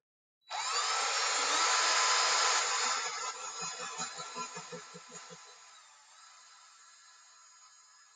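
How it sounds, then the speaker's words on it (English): A power drill whirs loudly, then its motor slows into pulsing, grinding strokes as a very small bit bores through material under just the drill's weight before winding down. "let the weight of the drill do the work, to not push"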